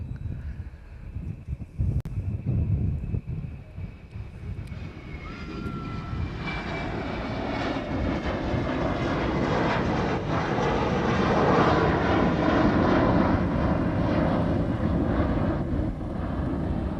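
A Hawaiian Airlines jet airliner bound for Las Vegas rolls at Honolulu airport, its engine roar swelling from a distant hum into a loud, steady, broad rumble with some wind buffeting, and no voices.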